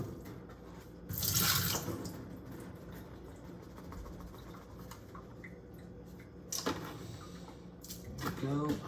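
Mushrooms are rinsed under a running kitchen tap, with short bursts of splashing water at the start and again later, amid quieter handling and dripping sounds.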